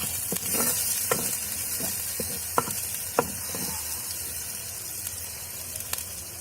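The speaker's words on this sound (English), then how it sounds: "now let this cook for a minute or two until the onion paste turns brown" Onion paste sizzling as it cooks in an earthen pot for tamarind fish curry, a steady close hiss of frying broken by scattered light stirring clicks and scrapes.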